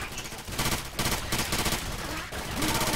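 Video game gunfire in a shooter with headshots, rapid loud bursts of shots repeating close up in dense volleys, broken by brief gaps.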